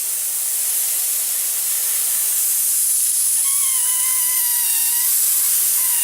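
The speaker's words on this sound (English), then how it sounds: "once the black's dry, you just gently spray it on" Red-brown paint is sprayed in a light mist onto the black-painted tracks of a Tiger tank model, giving a steady, close hiss throughout with a thin whistling tone joining in near the end.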